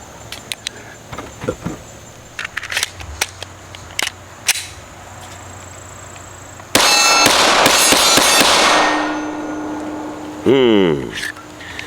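Gunfire at an outdoor shooting range, with a few sharp distant cracks and then a loud sustained barrage of rapid shots followed by a second short burst, under faint background talk.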